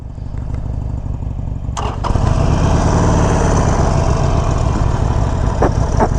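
A 2021 Harley-Davidson Sportster 48 motorcycle cranks and fires up nearby, then settles into a loud, steady, rumbling idle with a few small clicks over the top.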